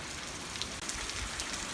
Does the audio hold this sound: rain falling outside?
yes